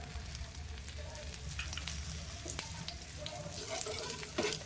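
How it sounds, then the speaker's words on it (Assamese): Oil drizzled over an uttapam topped with tomato, raw onion, green chilli and coriander sizzles in a hot pan, a soft, steady crackling hiss with faint pops, heard quietly and close up. "এতিয়া ইয়াত অকণমান ওপৰফালে তেল দি দিব লাগে এনেকৈ"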